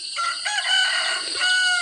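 A farm rooster crows loudly and close by in one long, sustained call with no talk over it.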